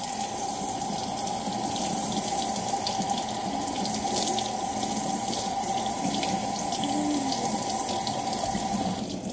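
Hot tap water runs steadily from a faucet into a sink while a Perler bead bowl is washed, a continuous close hiss and splash with no talking.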